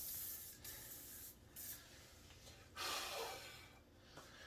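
Several short hissing bursts of water displacement spray from an aerosol can onto a Toro CCR 2000 snowblower carburetor area, close by, with brief pauses between sprays and a steady fan-like whoosh underneath.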